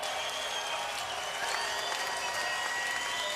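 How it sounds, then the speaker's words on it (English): Loud, steady crowd applause in a boxing arena after a fight, continuous dense clapping from a large audience with no talk over it. "How about a big round of applause for these two valiant warriors?"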